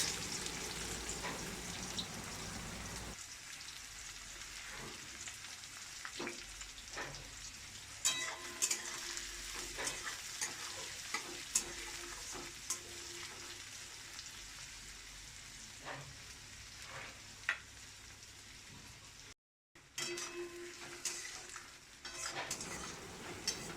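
Chopped onions sizzle in hot oil with bay leaf and whole dried chili in a home kitchen, a steady frying hiss broken by the scrape and clink of a spatula stirring the pan.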